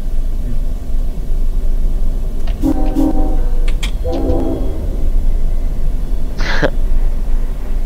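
A freight train in the Run8 train simulator rolls past with a constant heavy rumble and clatter, broken by a few short horn tones and a brief squeal near the end.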